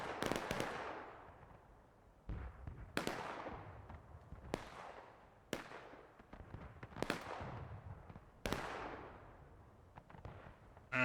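Artillery booms from the Civil War video game War of Rights, set at Bloody Lane, come as about six heavy, distant blasts spaced a second or two apart, each rolling off in a long echoing tail.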